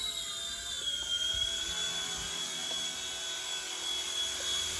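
A budget C129 V2 RC helicopter hovers indoors after an automatic takeoff, making a continuous high-pitched motor whine over a steady rotor whir that holds close and constant throughout.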